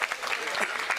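Applause from an audience welcoming a guest at the opening ceremony of Green Centre in Satellite Town, Gujranwala, a brief burst of crowd clapping with a voice speaking over it.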